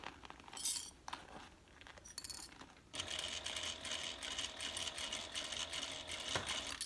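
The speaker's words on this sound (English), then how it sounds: "Sewing the circle of the curved edges." A sewing machine stitching the curved edge of a handbag bottom to its band, a steady whirring drone that starts in earnest midway after a few quiet clinks and handling noises, heard up close.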